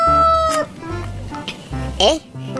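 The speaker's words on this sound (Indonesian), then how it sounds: "ada ayam berkokok" A toy rooster lets out electronic cock-a-doodle-doo crows and clucks, close and loud, in short bursts between pauses, with a cheerful voice chattering alongside the toy farm-animal sounds.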